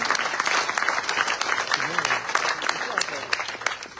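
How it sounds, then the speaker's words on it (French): A political campaign gathering's audience applauds loudly and steadily for several seconds, a dense wash of clapping with a voice briefly heard through it. "On applaudit bien fort"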